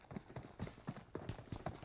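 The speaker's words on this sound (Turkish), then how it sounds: "Benim olduğum yerde iki tane ayak sesi var." Footsteps in the mobile battle-royale game PUBG Mobile, a steady run of quick thudding steps at a fast rhythm, fairly close and moderately loud, with no talk over them.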